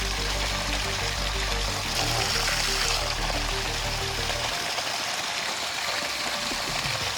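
Irrigation water for a sugarcane field rushes and splashes in a steady, close wash, with a low droning hum running underneath through most of the stretch.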